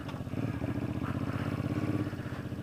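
A loud bobber motorcycle rumbles steadily close by as it rides out of a neighborhood, its exhaust pulsing in a continuous low thrum with no talk over it.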